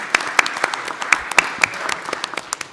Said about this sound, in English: Let's give Anna Marie Knorr a round of applause.